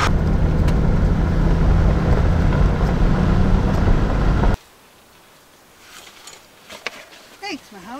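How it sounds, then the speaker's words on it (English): Loud, blustery wind roars across the microphone for several seconds at 9,200 feet near Greer, Arizona, then cuts off abruptly into near quiet with faint, scattered sounds. "it's too windy for me up here"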